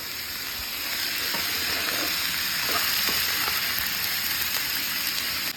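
Ash gourd pieces frying in a pan give a steady, close sizzle with soft crackles and faint stirring scrapes, continuous and fairly loud without any talk.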